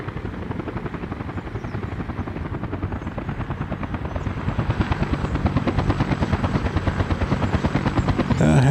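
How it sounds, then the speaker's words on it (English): Helicopters in the city-building game Workers & Resources: Soviet Republic, a loud, steady rotor chop with a rapid, even thudding rhythm that grows slightly louder midway. "Helicopters, you're good."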